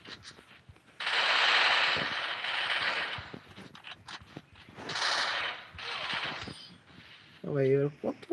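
Gunfire in the video game Free Fire comes as several rapid bursts of automatic shots separated by short pauses, fairly loud against a quiet background, and a voice briefly speaks near the end.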